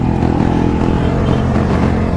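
Motorcycle engine running while being ridden, a close, loud, steady drone with a buzzy harmonic growl and no voices.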